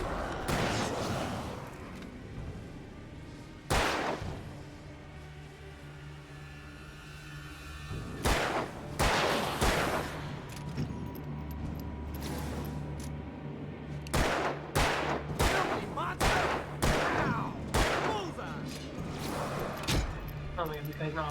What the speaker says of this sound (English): Please shoot the guys hitting me.